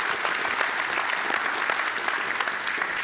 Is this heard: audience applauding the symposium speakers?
yes